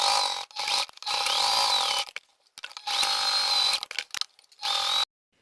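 An electric sewing machine stitches fabric for the body and lining of a small sewn box. It runs in several short whirring bursts separated by quiet gaps, close and without any voices.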